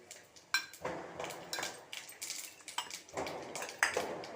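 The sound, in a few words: adding tempering spices to a pan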